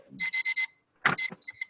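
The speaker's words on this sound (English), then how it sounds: "So this is my timer." A timer alarm rings in quick electronic bursts: four close beeps, a short pause, then another uneven run of beeps, loud and near, with no talking.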